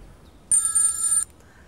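A telephone rings once, a bright electronic trill lasting under a second, loud and close in an otherwise quiet garden setting.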